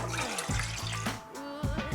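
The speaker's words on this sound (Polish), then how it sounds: "Dolewamy wodę" Water poured into a stand mixer bowl while making gluten-free bread, a short gurgling, splashing pour in bursts, close and moderately loud with no talk.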